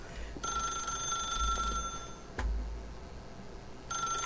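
Telephone ringing in The Stanley Parable: repeated electronic bell-like rings in bursts with short gaps, clear and fairly close.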